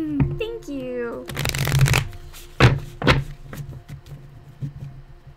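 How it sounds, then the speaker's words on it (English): Playing cards are shuffled in a quick riffle, a loud burst of fluttering clicks followed by a few sharp taps as the deck is squared, with someone speaking at the start. "Do you ever get triggered by the sound of card shuffling?"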